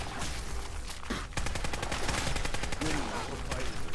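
Rapid bursts of gunfire from the player's weapon in Fallout 4, dense repeated shots crackling loudly for several seconds with brief pauses between volleys.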